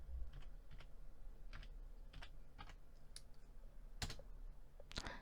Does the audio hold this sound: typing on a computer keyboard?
yes